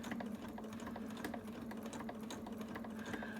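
An overlocker sewing machine stitches steadily, a fast even mechanical whirr with a rapid ticking rhythm, fairly faint and close, with no talk.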